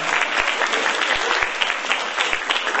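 Audience applause at a Philippine women's summit, a steady dense clapping from a large crowd, sustained and evenly loud for a few seconds.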